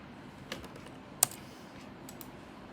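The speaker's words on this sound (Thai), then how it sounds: "พิมพ์อย่างนี้นะครับ" Sparse keystrokes on a computer keyboard during a card-battle game, a few light clicks with one sharper tap, quiet and close in a calm room.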